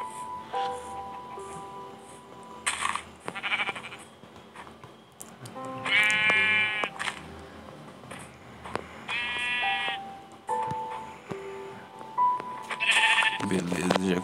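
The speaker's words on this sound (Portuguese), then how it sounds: "Aqui é outra ovelha." Sheep in Minecraft bleat several times, each a short wavering call, with game ticks and clicks between them while someone talks over much of it.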